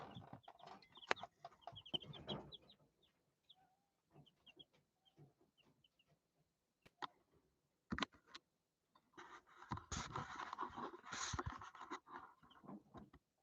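Chicks in a brooder cluck and peep in scattered bursts, close by, with a busier stretch of chirping and rustling toward the end and quiet gaps between.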